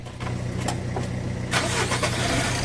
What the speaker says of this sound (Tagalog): Kaya punta ako dyan sa driver side, pa-start ko itong makina.